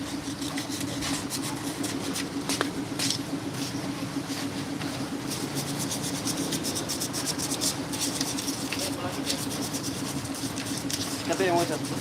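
Steady scraping and rubbing of fine sandpaper worked over a surface continues throughout, with a constant hum beneath and people talking over it.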